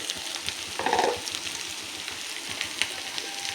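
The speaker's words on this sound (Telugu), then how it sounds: "వేసుకొని హై ఫ్లేమ్లో పెట్టుకొని వేపుకోవాలండి." Prawns fry over a high flame with green chillies in a steady, hissing sizzle, close and continuous, with a brief louder spatter early on and no talking.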